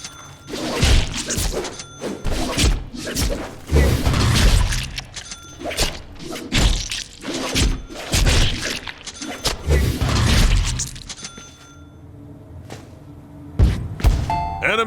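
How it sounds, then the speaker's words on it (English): Melee attacks land in the Deadpool video game as light and heavy strikes mix, giving a run of loud, punchy thuds, crashes and metallic impacts in rapid bursts, with a short lull before a final hit. "mix our light and heavy attacks together and see what happens"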